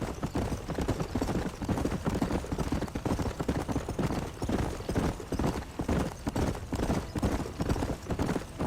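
Horse hooves clip-clop steadily in Red Dead Redemption, a brisk continuous trot of several horses, fairly close and moderately loud, with a faint snort or whinny mixed in.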